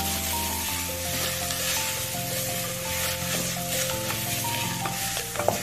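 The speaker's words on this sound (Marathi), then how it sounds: "छान असं त्याला हलवून घेऊयात मिक्स करून घेऊया" Bhogi mixed vegetables with masala are stirred in a sizzling pan, a steady frying hiss under continuous scraping and stirring strokes, close and fairly loud with no talk.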